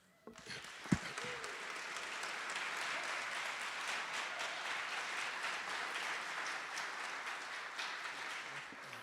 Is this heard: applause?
yes